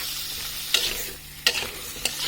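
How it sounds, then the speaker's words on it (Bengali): Potatoes sautéing with spices in a pan over high heat, a steady sizzle broken by three sharp scraping stirs of a spatula. "এখন এটাকে ভালোভাবে একটু কষিয়ে নেব।"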